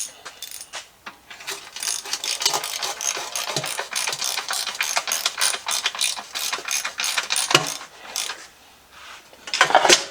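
A hand ratchet clicks in fast, close bursts as transmission bolts on a Willys rat rod are snugged up, with brief pauses between runs of pawl clatter.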